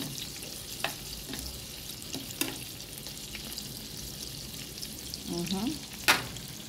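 A rib eye steak sizzles steadily in a pan, with a soft continuous frying hiss and a few faint clicks, growing briefly louder near the end.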